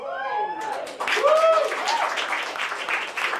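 A few audience members clap briefly, thin scattered applause from a small crowd, heard over voices talking.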